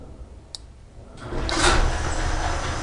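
A cheap motorcycle-mounted garage door opener sets a garage door moving, a faint click followed by a rising, steady rumble of the door opening that carries on to the end.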